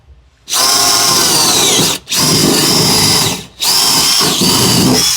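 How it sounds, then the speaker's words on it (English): A power drill bores holes through the floor of an EP3 car for a roll bar install: three loud, close bursts of high, whining drilling, separated by two brief pauses. "Then we're gonna drill the rest of our holes on that side."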